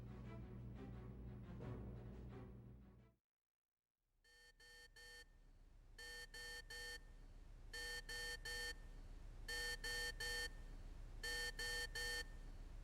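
Medical equipment in the surgery video game Trauma Team beeps in repeated bursts of triple tones, steady and electronic, following a stretch of background music and a brief silence.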